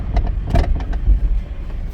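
Electric power steering column on a Kia Soul making a noise, heard as a few short, close mechanical knocks and whirs over a steady low car hum while the wheel is turned.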